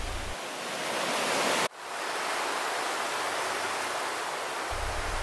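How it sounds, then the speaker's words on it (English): Continuous roar of a waterfall in Nantahala National Forest, a dense, even rush with a brief dip partway through before the steady roar returns. "the water runs downhill, creating the most beautiful waterfalls"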